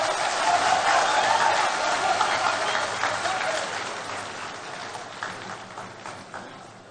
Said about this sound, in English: a round of applause once again for the General Secretary of the NDC, Mr. Fifi Kwete